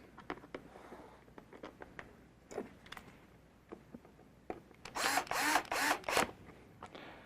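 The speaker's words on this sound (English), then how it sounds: "I've got my drill clutched way down so I don't hurt anything" A power drill set to a low clutch drives screws into the cord loop of a Luminette privacy sheer, with scattered clicks and taps before a couple of short whirring bursts near the end, close by and fairly quiet.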